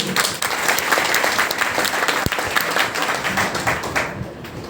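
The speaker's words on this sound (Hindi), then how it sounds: "आप अपने लिए एक जोरदार ताली मार लो।" A live audience at a Hindi motivational seminar claps loudly and continuously throughout, a dense sustained burst of applause filling the hall with no speech over it.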